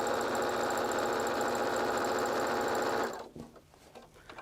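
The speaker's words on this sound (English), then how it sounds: "we're going to sew a 1/4 inch seam across the bottom" Sewing machine stitching a quarter-inch seam across the bottom of a pillowcase, with wrong sides of the fabric together: a steady, close, rapid whirring run for about three seconds, then it stops and only faint handling noises remain.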